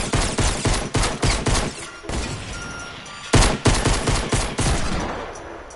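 Cannon blasts in a video game, a rapid series of loud booming shots in two bursts with a brief lull between, close and dominant with no talk.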